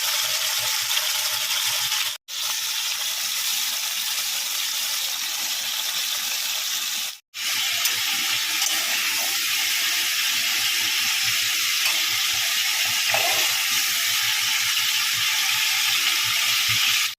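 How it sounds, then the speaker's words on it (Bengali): Shrimp half-frying in hot oil in a pan for a home-style squash and shrimp curry, a steady loud sizzle and hiss running almost unbroken, with two brief drops near the start. "চিংড়ি মাছ ছাড়লাম, একটু আধ ভাজা করে নেব।"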